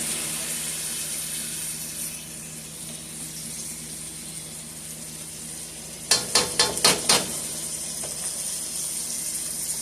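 Turkey meatballs fry in a pan with a steady, faint high sizzle, broken by a brief run of sharp clattering taps near the end as the pan or meatballs are handled.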